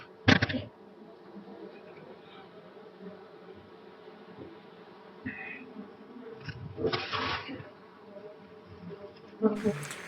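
Honeybees buzz around a wild hive in Attappadi, a steady insect drone with several louder, closer swells as bees pass near. Someone speaks quietly in the background.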